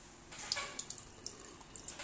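Water trickles and drips through a crack in a surface being tested with a waterproofing spray, a soft close flowing sound with small scattered splashes and droplets.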